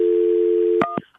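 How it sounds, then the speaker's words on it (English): An outgoing telephone call gives a steady ringing tone that holds for most of a second, then breaks into two short clicks before cutting off, loud and close with no voices. "Jacqueline, hang on, it's ringing."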